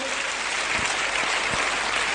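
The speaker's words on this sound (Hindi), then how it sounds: "मैं चाहूंगा एक बार जोरदार ताली हो जाए सर के लिए" An audience at a Safe Shop business seminar claps vigorously for a speaker, a short burst of loud, dense, continuous applause with no talking over it.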